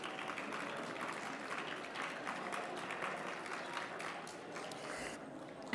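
Audience applause for congressional district and caucus leaders at an election night party event, a steady dense wash of clapping that stays even for several seconds.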